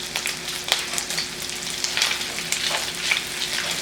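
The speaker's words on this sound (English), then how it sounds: "So once this fry up to your liking, you're going to take it out." Shrimp frying in about a tablespoon of bacon grease, a loud close sizzle with crackles and occasional stirring scrapes throughout.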